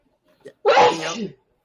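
A single loud, close sneeze bursts out after a brief quick inhale, with nothing else around it.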